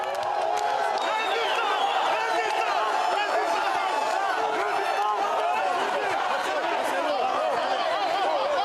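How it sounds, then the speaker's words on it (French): A crowd boos Mathieu Hanotin as he is received, a dense, continuous wall of jeering voices that holds steady and loud from start to finish. "Mathieu Hanotin est reçu sous les huées"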